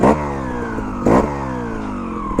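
A trials motorcycle in second gear revs hard while climbing a rock step, two sharp throttle bursts over a steady mid-pitched engine drone, close and loud.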